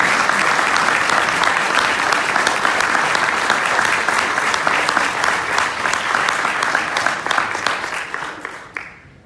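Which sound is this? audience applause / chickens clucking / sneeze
audience applause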